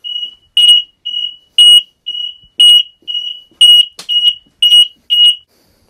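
An X-Sense smoke and CO detector beeps loudly and steadily during a test, a series of sharp high-pitched chirps in a regular rhythm, with no other sound between them.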